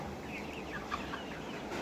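Tiger breed chickens on a farm give soft, scattered clucks, faint and brief against a quiet background.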